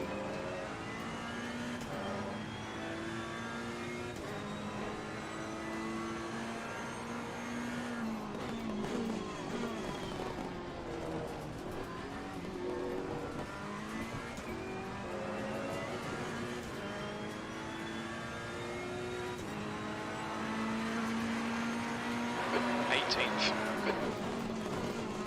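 Race car engines from a GT racing sim at the Zolder circuit, with steady droning revs and shifting pitch throughout, occasional brighter bursts near the end, mixed under ongoing radio-style talk.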